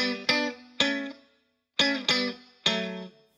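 Electric guitar playing a solo in five bright, clipped chord stabs with a slightly distorted, effects-colored tone, ringing and decaying between hits with a pause in the middle, close and unaccompanied.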